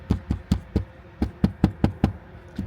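Knuckles rapping on the rear door panel of a 2024 Mazda 3 sedan, about ten crisp, hollow knocks in a fairly even rhythm, close and alone.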